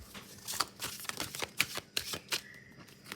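Tarot cards being shuffled by hand up close, a quick run of soft riffling flicks and taps over about three seconds, no talking.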